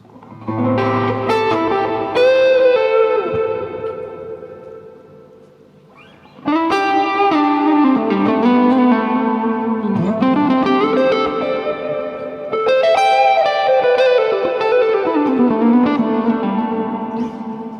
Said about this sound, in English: not necessarily my favourite amp sound, but I really like the reverb and delay